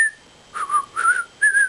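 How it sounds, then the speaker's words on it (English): A person wearing a lip ring whistles: a short note, then three wavering whistled phrases in quick succession, close and clear with no talking. "You know how hard it is to whistle with a lip ring?"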